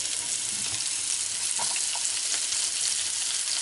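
Onions sizzle and fry in a hot pan, a steady close crackling hiss throughout with a few faint clinks and stirring touches, no voices.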